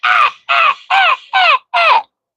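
Crow cawing five times in a steady rhythm, each harsh, loud caw about half a second long, close and alone with no other sound.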